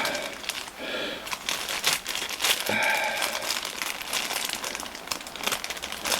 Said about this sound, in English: I know you can hear me rustling behind the camera, just getting them out of here.